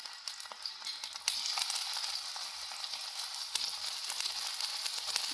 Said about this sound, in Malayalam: എണ്ണ ചൂടാവുന്നുണ്ട് നമുക്ക് ഉണക്കമീൻ ഇട്ട് കൊടുക്കാം